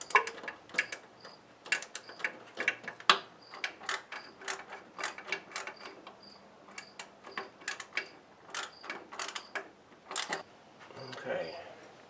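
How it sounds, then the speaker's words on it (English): A 1/4 inch ratchet clicks in quick, irregular bursts of sharp ticks while a bolt is tightened on a 1940s Speed Queen washer, recorded close in a quiet workshop with a faint hum beneath. "I'm using this 1/4 inch ratchet because I don't want to risk breaking anything."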